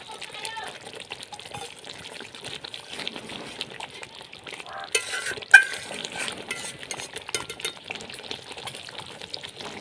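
Slit green chilies going into a spice paste frying in a pan for Bengali rui fish rezala, with soft sizzling and stirring scrapes throughout and one sharper clatter midway. A voice talks over it.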